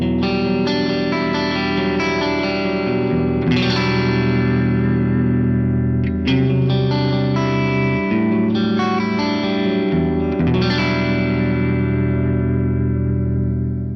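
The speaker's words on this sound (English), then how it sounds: "It's the 11 reverb on the stock concert hall setting" Layered, looping guitar-like tones from a Headrush looper ring out with a lush, spacious concert hall reverb, notes blending and sustaining into a wide, washing ambience.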